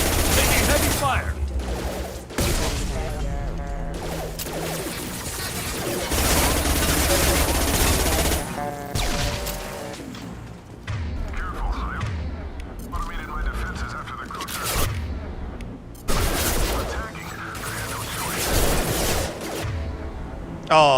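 Heavy automatic gunfire crackles in a Mass Effect 2 firefight, with bursts of shots, impacts and explosions coming in waves between brief lulls, while someone talks over parts of the fighting.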